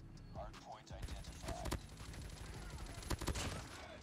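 Bursts of rapid gunfire in Call of Duty Mobile from a Diamond Peacekeeper build, crackling continuously with a few sharper loud shots, while a voice talks over it.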